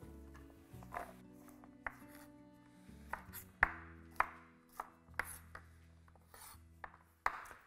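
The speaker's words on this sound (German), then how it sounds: "und schneide ich grüne Bohnen." A knife chops green beans on a cutting board while vegetable curry is prepared, giving about ten crisp, separate taps at uneven intervals over a faint low hum, fairly quiet and close.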